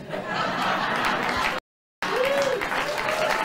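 A television studio audience applauds steadily with chuckles mixed in, broken by a short silent gap before the clapping and laughter resume.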